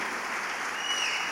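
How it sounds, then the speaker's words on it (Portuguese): A brief, steady wash of applause from a church congregation during a Portuguese-language service, dense and even throughout with no distinct individual claps. "Uma salva de palmas para os designs gráficos da nossa igreja"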